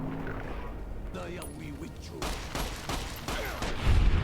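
Gunfire in Fallout: New Vegas rings out as a fusillade of shots with crashing impacts, growing louder toward the end, while a voice talks over it.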